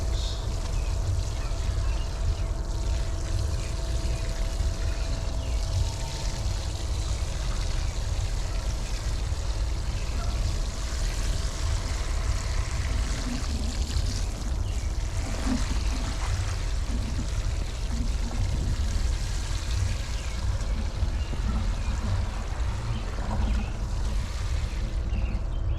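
Water poured steadily onto newly planted garden seedlings, a continuous broadband splashing and trickling wash lasting throughout, close and fairly even with slight surges near the middle.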